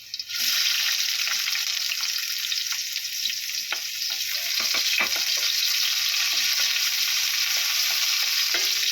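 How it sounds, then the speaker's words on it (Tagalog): Garlic and onion hit hot oil in a pan and sizzle loudly and continuously, a close, bright hiss with occasional stirring clicks and scrapes. "Lagay na po natin yung ating bawang. Ang ating sibuyas."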